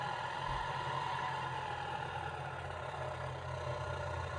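A tractor fitted with a header idles as it is being parked in a shed, a steady low engine rumble that stays even and continuous, with no talk.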